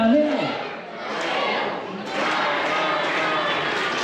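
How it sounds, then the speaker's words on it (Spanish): A group of voices at a Mexican party shouts a rhythmic Spanish cheer together, loud and close, with crowd noise sustaining between the chanted phrases. "una fuerte porra de todos juntos y dice así"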